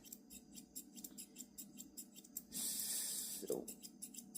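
Grooming scissors snipping through a dog's coat in small, quick cuts, a crisp rhythmic run of close metallic snips with a brief sprayed hiss partway through.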